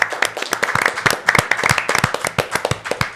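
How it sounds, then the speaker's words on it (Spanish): A studio audience claps for visiting communication students from the Universidad de Congreso on a film and culture program, giving a short burst of uneven hand claps with a few sharper individual claps standing out and no speech over it. "un aplauso para ellos"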